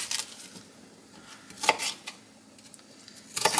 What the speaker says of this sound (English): we're just going to cut it in large pieces